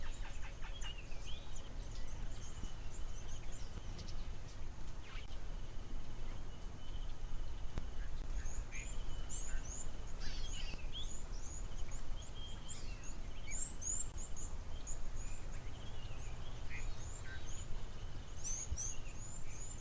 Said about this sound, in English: listening to all the different birds